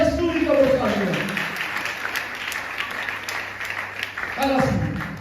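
An Easter church congregation claps together for a stretch of a few seconds, a dense wash of applause between bursts of a preacher's voice at the start and end.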